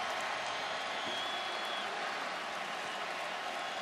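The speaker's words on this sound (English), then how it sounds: "this crowd in Athens is fired up and smelling blood" Football stadium crowd in Athens, Georgia, at a Clemson versus Georgia college game, roaring and cheering in a steady dense wash of noise that stays loud and continuous throughout.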